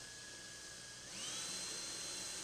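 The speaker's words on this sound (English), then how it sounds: "drill a 3/32 pilot hole" A small drill bores a 3/32 pilot hole in a wooden drawer front for a pull. A thin, high whine rises in pitch partway through and then holds steady, close and moderately loud.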